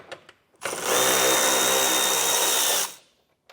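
A power tool whirs steadily for about two seconds while removing 10mm bolts on a 2024 Ford Maverick, loud and close, with a few faint clicks before it starts.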